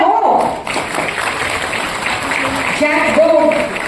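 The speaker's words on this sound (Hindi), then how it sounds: "तालियां हो" Audience applause at a government appointment-letter ceremony, a broad wash of clapping under loud amplified speech and background music, continuing steadily throughout.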